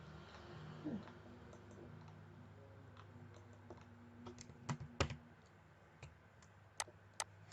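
Scattered keystrokes on a computer keyboard, a handful of soft clicks with a few sharper taps near the end, quiet over a low steady hum while drafting a pad foundation reinforcement detail.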